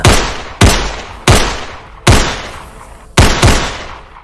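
Five loud, sharp gunshots ring out one by one at uneven intervals, each followed by a long echoing decay, punctuating a horror story about aswang creatures being shot at.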